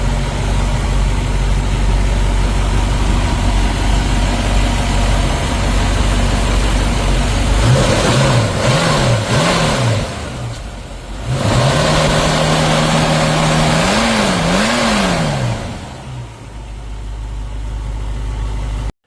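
An orange 1966 Ford Mustang coupe V8 idles loudly, then is revved in two rising-and-falling bursts, with a brief dip between them and a settle back to a rough idle near the end.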